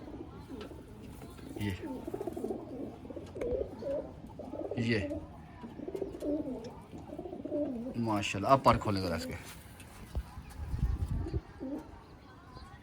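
Soft coos of a teddy pigeon repeat under close conversational speech, with rustling and handling noises and a brief flutter near the middle.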